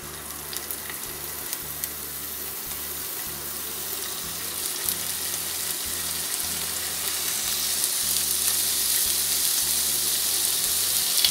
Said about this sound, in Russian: Мясо курицы обжариваю небольшими партиями на средней мощности до получения румяной корочки.